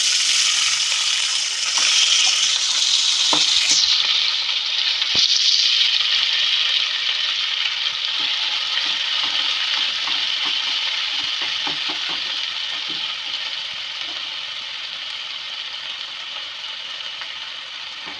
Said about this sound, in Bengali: ততক্ষণ আমি চিংড়ি মাছগুলো ভাজছি।